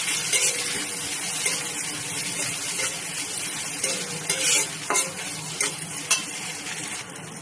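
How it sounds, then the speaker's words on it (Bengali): Chopped green chillies and tomatoes stirred in a hot pan for egg dal tadka, a close, steady sizzle with repeated spatula scrapes and clacks, louder strokes toward the end, no talk. "দিয়ে আরেকটা তোবার এভাবে নেড়ে দিতে হবে।"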